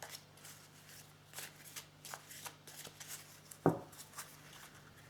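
Tarot cards are quietly shuffled and drawn in faint, close papery rustles with one sharper tap near the middle.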